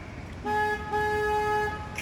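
A car horn honks twice in quick succession, a steady two-tone blare, loud and close against low road rumble during a drive through San Antonio.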